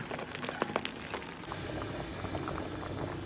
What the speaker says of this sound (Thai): เดือดคักๆแล้วพี่น้อง